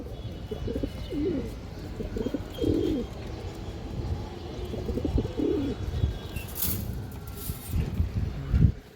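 A pure pair of pigeons, a female in front, coo in repeated low throaty bursts at close range, with rustling and shuffling around them and no talk.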